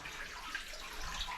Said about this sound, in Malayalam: വെള്ളം വീഴുന്ന സൗണ്ടല്ലേ.